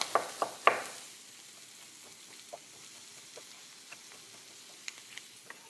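Chorizo sausage fries in a pan while being stirred: a quiet, sparse scatter of sharp pops and clicks, with a few louder spatters at the start and no voices.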